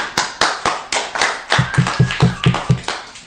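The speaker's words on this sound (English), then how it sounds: "the clapping thing, they did that a few times" A group of people clap together in a room, a steady run of about fourteen sharp claps at an even pace, close and loud, with no talking.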